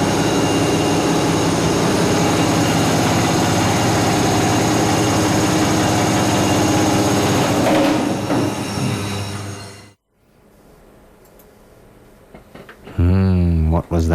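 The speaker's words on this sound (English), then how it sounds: "It's the sound of an old 50s British air compressor that drives power tools." An old 1950s British air compressor powering tools in a locomotive works shed drones loudly and steadily for about ten seconds, then cuts off to a low room hush before a brief new sound near the end.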